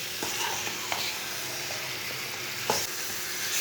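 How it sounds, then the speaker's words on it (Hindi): Mutton pieces frying in a pot, a continuous close sizzle with occasional spoon knocks and stirring scrapes, no talk over it. "भून लेंगे 5 मिनट तक।"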